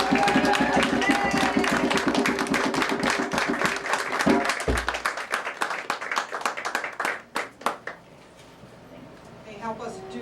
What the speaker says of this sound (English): tremendous applause